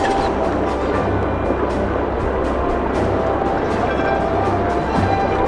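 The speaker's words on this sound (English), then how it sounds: "That engine sounds like it's dying." A wingless plane's engine in the video game The Brew Barons drones in a steady, rough, labouring hum with faint repeated clicks above it, close and continuous, with no talk.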